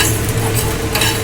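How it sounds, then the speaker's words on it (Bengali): Black peppercorns stir-fry in a hot pan, giving a continuous close scraping and light sizzle as they are tossed, with no talk. "এটাকে কিন্তু নেড়ে নেড়ে ভাজতে হবে"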